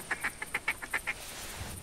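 Ducks flying overhead in theHunter video game, giving a quick series of about eight nasal quacks, moderately distant above a steady background hiss.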